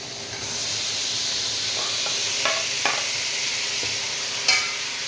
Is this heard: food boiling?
yes